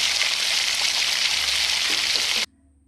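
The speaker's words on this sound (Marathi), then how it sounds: "5-10 मिनिट कांदा छान परतून घ्यायचा." Onions frying in oil in a pan over a village wood-fired chulha, a dense steady sizzle, close and loud, that cuts off abruptly near the end, with no talking.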